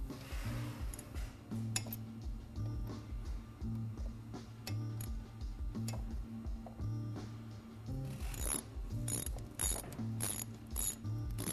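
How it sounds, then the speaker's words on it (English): A ratchet wrench tightens the brake caliper bolts on a sportbike during a Galfer rotor install, giving steady rapid pawl clicking in short bursts with small metallic knocks, close up and fairly quiet, with no talking. "you're going to want to tighten up your caliper bolts"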